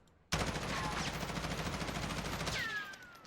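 A stock M4 rifle in Warzone fires one sustained full-auto burst, a dense rapid crackle of shots lasting over two seconds that cuts off abruptly and is followed by a short ringing tail.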